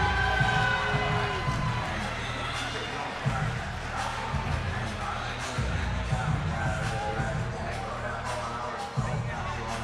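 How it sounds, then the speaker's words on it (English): A crowd at a live fight event cheers, shouts and whoops in loud, continuous bursts across a large venue, with a commentator talking close over the roar. "the crowd is definitely a little excited today"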